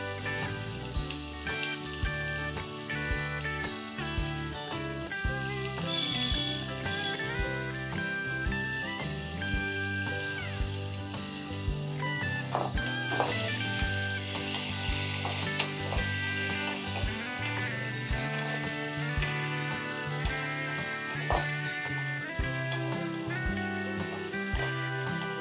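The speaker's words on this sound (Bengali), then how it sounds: "নুন হলুদ দিয়ে আলুটা ভেজে নিতে হবে।" Potatoes frying in oil with salt and turmeric in a pan, a steady crackling sizzle running throughout with occasional stirring, under continuous background music.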